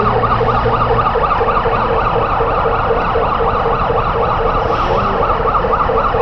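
A Bangladesh Fire Service and Civil Defence vehicle's siren wails loud and close in a steady, repeating up-and-down cycle, with a low road rumble beneath and no voices.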